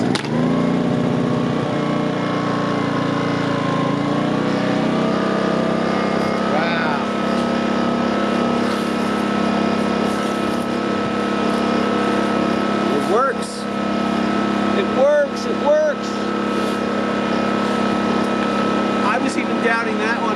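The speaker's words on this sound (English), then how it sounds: "Wow, that's smooth. That's economy mode." Generac 2200i inverter generator with a newly replaced carburetor runs in economy mode, its engine humming steadily and loudly near the microphone for the whole stretch while a person talks over it.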